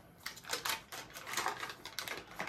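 A pack of butter being opened, with soft crinkling and tearing of the wrapper in quick, close irregular bursts.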